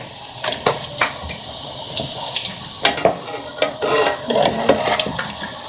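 A puri sizzles in hot oil while being pressed down to puff, giving steady bubbling frying noise with scattered crackles and spatters and short scraping or tapping sounds from the pressing, with no talking.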